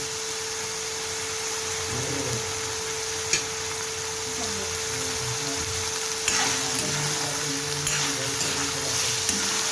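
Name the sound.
vegetables frying in oil for pav bhaji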